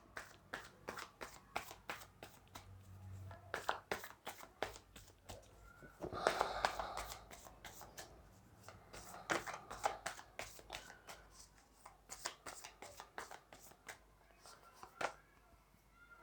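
Tarot cards being shuffled and drawn by hand, with repeated quick riffling snaps and soft card slaps at close range, punctuated by brief louder flurries.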